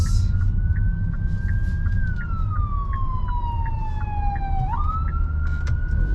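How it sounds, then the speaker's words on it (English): A wailing ambulance siren, heard from inside a new Hyundai Sonata, sounds continuously over steady road noise, its pitch sliding down then jumping back up as the ambulance passes. "I need to give way to the ambulance."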